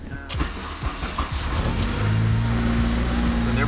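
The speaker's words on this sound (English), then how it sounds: "I'm gonna go ahead and start the car." A K-swapped Acura RSX engine cranks and catches, then settles into a loud, steady idle with a strong low hum that holds close by to the end.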